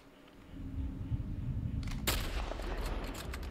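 Gunfire in The Last of Us: a loud burst at about two seconds over a steady low rumble, followed by a dense scatter of sharp cracks and clatter.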